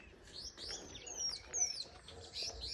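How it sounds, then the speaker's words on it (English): Birds in a park chirp and whistle in quick, bright sliding notes, several overlapping calls at close to moderate range, with soft cooing underneath in a quiet outdoor setting. "guess you can hear birds chirping."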